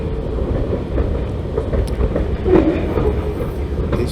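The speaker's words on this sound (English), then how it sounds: "I sure am not going to sit here and count the cars just to see, but it was a very long train" A very long CSX freight train rolls past close by on the ANB line, a continuous heavy rumble of wheels and rattling cars with faint clicking throughout, no voices.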